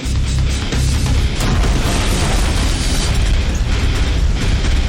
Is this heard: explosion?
yes